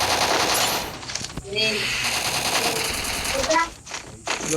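Rapid automatic gunfire in a Free Fire game match, dense and loud bursts in continuous rattling streams, with someone talking briefly in between.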